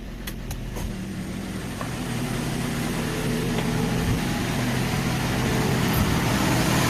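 A car radiator fan motor, recently repaired without disassembly, is switched on for a test and runs with a steady, low whirring hum that builds slightly in the first seconds and then holds constant.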